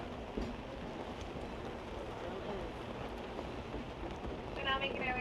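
Rain pours steadily around a Disneyland train ride, a constant broadband wash of drops close by, with faint murmuring in the background and a short tonal chirp near the end.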